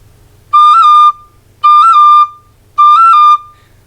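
A tin whistle plays three slow, separate notes, each with a small ornamental roll flicker in the middle, clear and loud with short pauses between.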